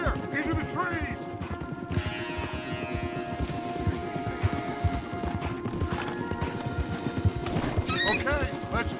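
In Red Dead Redemption 2, horses race along in a loud, rapid gallop, hoofbeats pounding without pause, with occasional whinnies and voices calling over the noise of the ride.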